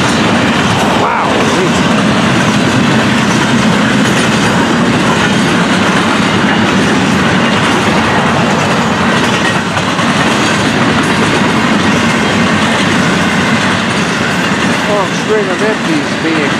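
A freight train of double-stack container cars rolls past at close range with hot brake shoes, a loud, continuous rumble and wheel clatter that never lets up, with a brief metallic squeal near the end.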